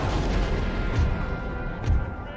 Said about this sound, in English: So the artillery engagement still continues in the centre